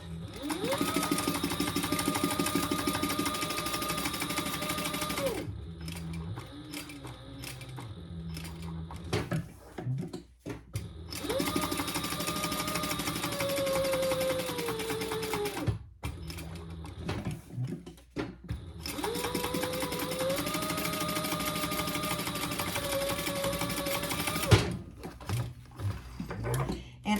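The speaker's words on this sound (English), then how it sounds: "now we're just going to sew that in place" A sewing machine stitches fabric in place at roughly a 3 stitch length, running in three long steady whirring bursts with short pauses of clicks and handling noise between them, close and clear, with no voices.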